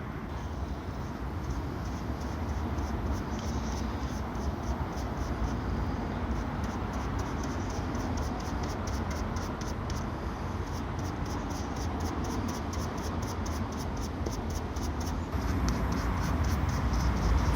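A paintbrush working paint onto freshly cut wood ends for a garden fence and wood store, a continuous, close, scratchy brushing with quick repeated strokes and no talking.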